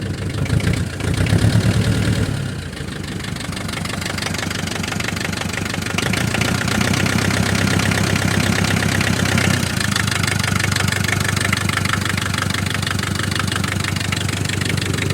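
A diesel tractor engine, a Ch 4 8.5 type, idles steadily while warming up, a low chugging rumble with a rapid knocking rhythm, close and fairly loud, with no voices.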